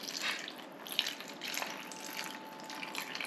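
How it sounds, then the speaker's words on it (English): Homemade broth pouring from a pitcher into a tray of molds, a steady close trickle and splash of liquid with a few small drips, no talk over it. "Okay, so I got the broth into my molds."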